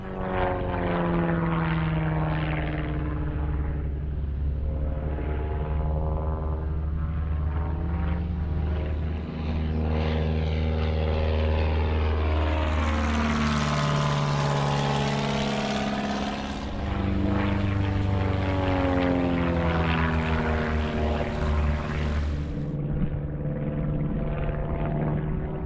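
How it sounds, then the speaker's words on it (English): Propeller aircraft approach to land at an airfield, their droning engines rising and falling in pitch as they pass close by, loud and continuous with a sweeping tone shift midway. "Got a couple of planes coming in."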